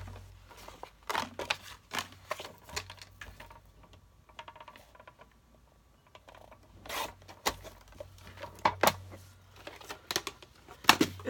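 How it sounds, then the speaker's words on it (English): Paper being trimmed down to a 4-inch piece during crafting, with irregular snips and sharp cutting clicks coming close and fairly quiet, separated by short pauses. "I'm going to cut this down to 4 inches"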